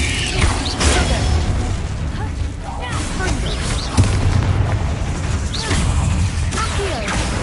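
Confringo spell blasts go off in Hogwarts Legacy, with several booming impacts and crashing debris amid mechanical clatter while a voice speaks between the bursts.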